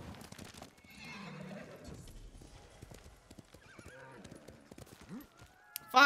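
In the samurai video game Ghost of Tsushima, a horse gives a soft whinny amid scattered hoof clops and other game sounds, all fairly quiet, with a sharp louder burst at the very end.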